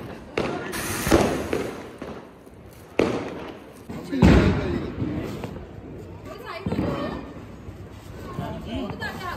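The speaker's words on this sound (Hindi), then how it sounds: "पटाखे चलाने का तरीका।" Several firecrackers bang one after another at irregular intervals during Diwali, sharp loud pops with crackling tails, while people chatter and call out in the background.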